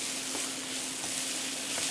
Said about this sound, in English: saute a bit more, and it's almost done